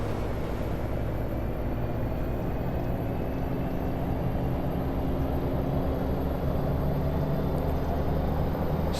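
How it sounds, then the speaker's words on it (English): A heavy truck engine in American Truck Simulator drones steadily and loudly throughout, a constant low rumble with road noise and no breaks. "Just listen to that engine."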